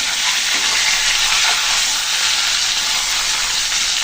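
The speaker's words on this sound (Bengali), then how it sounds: "মাছগুলো কিন্তু ভালো করে ভেজে নিলাম" Pangas fish, a Bangladeshi river catfish, fries in hot oil for a potato bhuna, giving a loud, steady, unbroken sizzle throughout with no talking.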